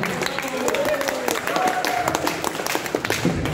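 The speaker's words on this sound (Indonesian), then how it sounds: "Tepuk tangan dulu Pak." Audience at a stand-up and motivational event claps in a busy, uneven burst, with voices and crowd chatter mixed in over the applause.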